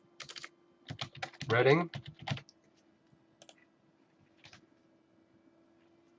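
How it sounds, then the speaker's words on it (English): Quick bursts of keystrokes on a computer keyboard come in clusters, then fade into sparse, softer taps, with a brief voice heard between them. "So if we type in emergency dentist"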